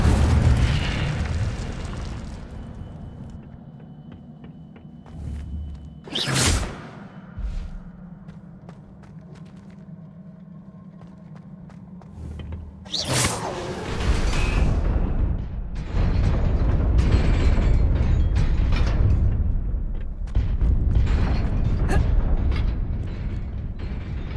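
An Incendio fire spell in Hogwarts Legacy is cast twice, each time as a sharp, bright whooshing burst of flame, followed by a louder, sustained rumbling crackle of fire and effects.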